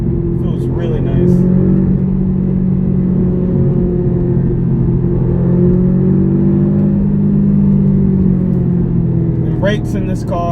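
Cabin sound of a 2012 Audi TTS driving, a loud steady engine and exhaust drone with rumbling road noise, shifting slightly in pitch as the car cruises, with faint clicks at the start and end.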